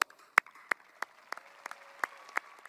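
Sparse applause at a graduation ceremony, about eight distinct claps spaced evenly and fairly close, over a quiet background.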